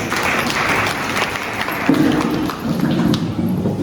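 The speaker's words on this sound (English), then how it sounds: "Let's give a big round of applause." Audience applause at a school annual function and prize distribution, a dense steady patter of clapping from a large crowd, with a low murmuring voice or hum rising underneath in the second half.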